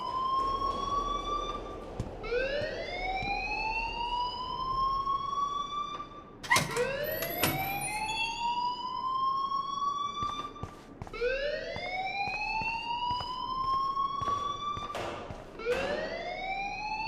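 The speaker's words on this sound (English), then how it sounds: "please turn off that alarm since that's your job" An alarm wailing inside a video game, a loud electronic siren sweeping upward in repeated rising whoops, several cycles in a row with a few sharp clicks between them and no talking.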